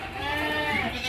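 Goats bleat in overlapping, wavering cries during a routine morning feeding of farm-raised goats, loud and close with a steady chorus and no talking over them.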